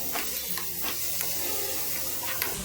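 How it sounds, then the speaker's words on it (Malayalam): Broccoli and vegetables sautéing in a pan on high flame, a steady hiss with soft scraping stirs, close and continuous with no talking. "ഹൈ ഫ്ലെയിമിൽ ഇട്ടിട്ടാണ് ഞാനിത് വഴറ്റുന്നത് കേട്ടോ"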